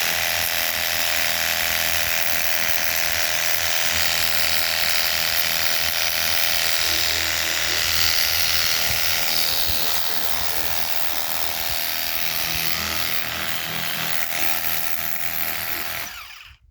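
A Worx 633 cordless pressure washer rated at 56 bar sprays continuously on iron-dusted dirt, a loud steady hissing drone with a motor whine under it that holds for about sixteen seconds before cutting off abruptly.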